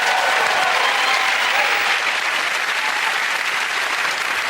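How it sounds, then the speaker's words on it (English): Dense, loud studio audience applause for the comedians Frankie Boyle, Hugh Dennis and Tom Stade on the panel show Mock the Week, sustained and even throughout with no voices on top. "Get that round of applause to Frankie"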